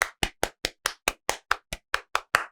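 Hands clapping twelve times in a steady, even rhythm, each clap sharp, close and loud, with short silences between them.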